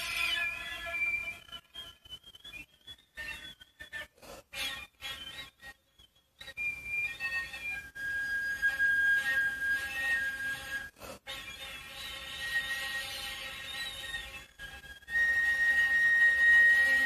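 A flute plays a contemporary harmonic spiral, thin whistling overtones sliding and stepping through high pitches with breathy gaps and brief pauses, sounding alone and fairly close for about seventeen seconds.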